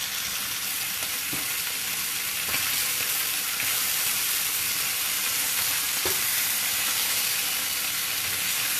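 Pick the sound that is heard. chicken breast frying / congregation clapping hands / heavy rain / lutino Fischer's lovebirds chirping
chicken breast frying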